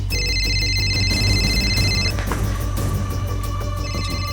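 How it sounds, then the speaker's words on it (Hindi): An old-style telephone bell rings loudly in sustained electronic trills, then a brief pause before another ring begins. "आखिरकार फोन की घंटी फिर से बजी।"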